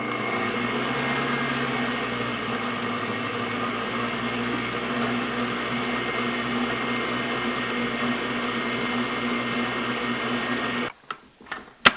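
An electric mixer whirs steadily as buttermilk is worked into pound cake batter, a loud, even motor hum held for several seconds, then cut off, followed by a few clunks.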